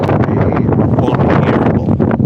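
Strong wind buffets the microphone on an outdoor morning walk, a loud, continuous rumbling roar with gusty surges that fills the whole stretch.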